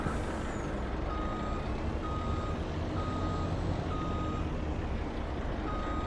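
Truck reversing alarm beeping at a steady even rhythm over a constant low engine rumble in Farming Simulator, with the beeps repeating about once a second and no one speaking.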